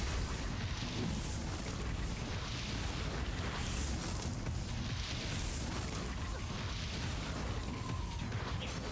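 Code Vein turrets fire repeatedly in a steady barrage of muffled booms and bursts, a continuous loud wash of blasts with no clear pauses and no talk.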